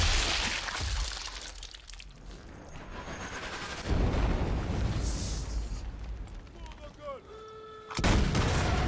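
Heavy gun blasts and booming impacts from a French gun in the Sniper Elite game, mixed with clattering game effects and noisy bursts, loud and close.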